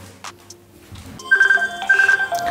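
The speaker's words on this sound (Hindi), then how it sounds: "दूसरे फ़ोन से कॉल करके देते हैं यहाँ पे रिंग बसती है वाइब्रेट होता है" A Fire-Boltt Hunter smartwatch rings for an incoming call with a short, bright electronic ringtone. The melody repeats twice, loud and close, after a few quiet clicks and taps at the start, with no talking.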